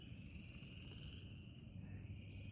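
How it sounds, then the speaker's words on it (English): Frogs croak outdoors, faint and distant, in a steady chorus with a high trilling tone running beneath it. "the guy tells me the frogs are letting it rip"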